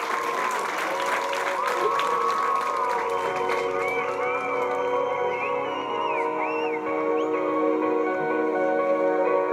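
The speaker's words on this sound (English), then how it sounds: "Big round of applause to him" Steady applause and cheering fill the room at a student Interact club district assembly installation, a dense crowd clapping continuously with a few voices and whistles rising above it throughout.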